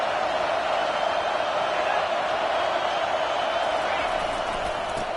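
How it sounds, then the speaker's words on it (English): A football stadium crowd keeps up a constant, roaring wash of noise that sounds distant and unbroken, with no clear claps or cheers standing out. "This crowd going to try to make life miserable for these guys"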